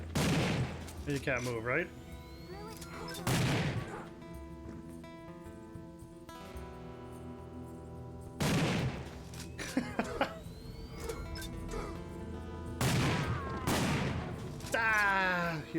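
Gunshots in the fantasy action game Sudeki: a few loud, sharp bursts spaced several seconds apart, over steady game music, with someone talking between them.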